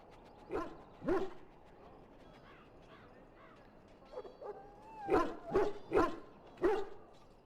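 An injured dog in the fantasy video game Dragon Age: Origins whimpers and yelps in short, pained bursts, a few early cries then a tighter cluster near the end over a low ambient game background.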